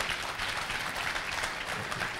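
Audience applause for Alex Muyoboke at a live talk-show taping, a steady wash of clapping from a crowd that holds even and fairly loud throughout, with no pauses or voices standing out.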